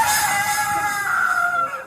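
A chicken gives a loud, close, drawn-out squawking call lasting under two seconds, with no talking over it.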